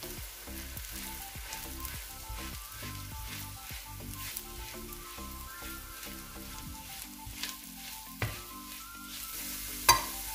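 Coriander powder sizzles softly in a hot pan while a spoon stirs it, with repeated light scraping strokes and a few sharper clinks near the end, fairly quiet overall.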